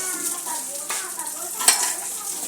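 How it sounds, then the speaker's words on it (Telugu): Spices stirred while dry-roasting in a pan produce soft scraping and rustling strokes with light sizzle and an occasional clink of the spoon against the pan, close and fairly loud. "ఇలా మంచిగా వేపుకోవాలి"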